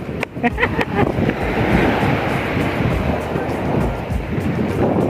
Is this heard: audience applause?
no